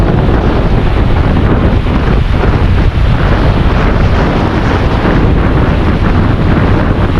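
Rough sea waves and strong wind batter a boat, a loud, constant roar of wind buffeting and crashing water with no letup; no talking.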